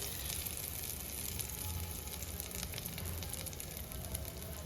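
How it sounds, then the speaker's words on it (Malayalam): Hot tempering with curry leaves poured into a Kerala-style papaya and chembu curry, giving a steady, quiet crackling sizzle that holds throughout with no voices. "നമ്മുടെ വറവ് ഇവിടെ ശരിയായിട്ടുണ്ട് നമുക്കിത് നമ്മുടെ കറിയിലേക്ക് ഒഴിച്ചു കൊടുക്കാം താളിപ്പൊഴിക്കാം"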